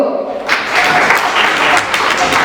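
An audience at a marriage engagement event claps in a dense, steady burst that starts abruptly and holds loud and near.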